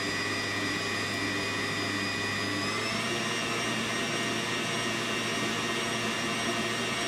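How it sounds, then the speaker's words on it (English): An electric mixer fitted with a beater whirs through anise cake batter, a loud steady motor drone with a slight shift in pitch partway through and no talking. "If you have a beater for your mixer, you'll want to mix it with your beater because you want to make sure there's no lumps in it."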